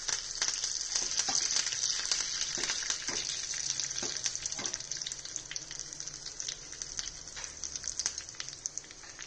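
Curry leaves fry in hot oil with garlic and dried red chilies as the tempering for tomato rasam, making a loud, continuous close sizzle with scattered sharp crackles and pops and no voices.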